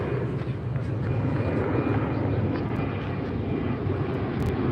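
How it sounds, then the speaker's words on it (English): A Delta Airlines jet takes off from LAX bound for Portland, a broad steady engine roar heard from the beach at moderate distance, unbroken throughout. "we have Delta Airlines 2457 coming off, heading to Portland"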